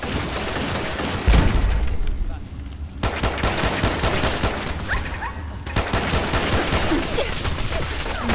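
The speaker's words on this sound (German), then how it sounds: "Wer schießt denn da?" Gunfire in the Fallout 4 game in survival mode, loud rapid bursts of automatic shots that come in dense volleys with brief pauses, a heavy thump near the start, and someone talking intermittently underneath.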